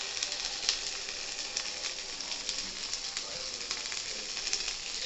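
Egg frying in a pan outdoors in a forest, a steady, fine crackling sizzle with small pops throughout, close and moderately loud, with no one talking.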